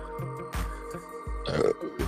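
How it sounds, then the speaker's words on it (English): A low, drawn-out burp sounds close up amid quiet background noise, with no one talking. "Oh, God, I burped."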